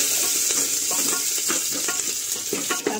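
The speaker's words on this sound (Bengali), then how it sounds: "কারি পাতাটা একটু ভেজে নেব।" Curry leaves fry in hot oil for homestyle dal with a constant, close sizzle, broken by crackles and a few soft stirring scrapes.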